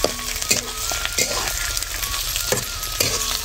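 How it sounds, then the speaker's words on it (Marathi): Potatoes sautéing with onions and mustard seeds in a pan, a continuous close sizzle broken by several sharp scrapes and knocks of a spoon stirring at irregular intervals. "बटाटे परतून घेतले"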